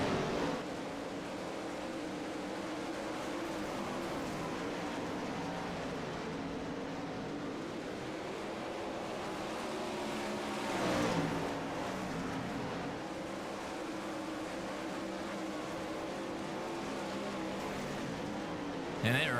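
410 sprint cars roar continuously around the Cedar Lake dirt oval in a sim racing game, a dense, steady engine drone that swells briefly mid-race as the pack charges.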